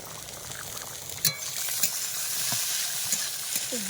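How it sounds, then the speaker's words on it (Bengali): Prawn legs fry in a pan with a continuous hiss of sizzling oil, broken by a few sharp clinks and scrapes of stirring, close and without talk. "মাছের যে চিংড়ি মাছের যে পাটাগুলো ছিল সেগুলো ভাজছি"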